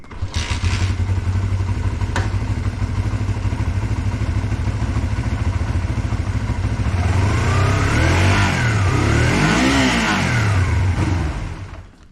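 MGB engine running briefly with the fuel shut off, a steady loud idle that rises and falls in revs toward the end before cutting out.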